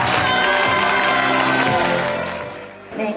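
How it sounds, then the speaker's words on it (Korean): Audience applause and cheering welcoming a lecturer to a talk, loud crowd clapping mixed with whoops and shouts, sustained then dropping away near the end with a brief burst of noise. "유튜버 윤설미 강사님을 큰 박수로 맞이해 주십시오."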